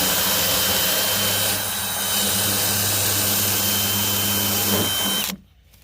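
A power drill with a hole-cutting bit bores a round hole through Coosa composite board for a boat console access hatch on a Carolina Skiff, a loud steady grinding whine lasting several seconds before cutting off abruptly.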